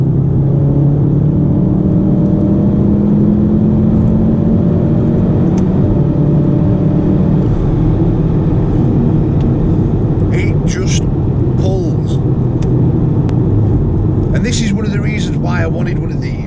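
A Volkswagen Golf R drives and accelerates at night, its engine and road noise a steady loud drone with rising tone, heard from inside the car while someone talks over it.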